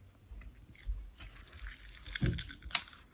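Crunchy food is bitten and chewed close up, a few quiet crisp crunches scattered over about three seconds with no talking.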